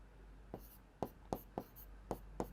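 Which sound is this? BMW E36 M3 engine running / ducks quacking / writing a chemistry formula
writing a chemistry formula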